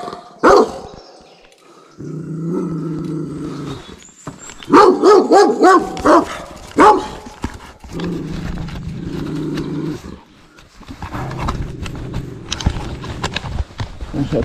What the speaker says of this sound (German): da begrüßt mich ein Hund.